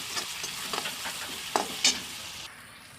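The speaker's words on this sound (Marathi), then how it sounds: "तर आता हे टमाटर शिजवायला ठेवायचं." Tomatoes with salt cooking in a pan for a Marathi eggplant curry, giving a soft sizzle with several stirring scrapes and a brief louder clatter near the end, with no talk.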